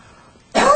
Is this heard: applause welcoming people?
no